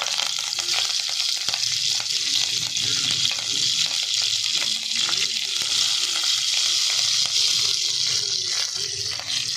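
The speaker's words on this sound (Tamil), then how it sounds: "இப்போ கருவேப்பிலை பொரிஞ்சிருச்சு, கடுகு பொரிஞ்சிருச்சு." Mustard seeds and curry leaves splutter loudly in hot oil for sambar, a dense, continuous crackle and hiss with scattered sharp pops close up.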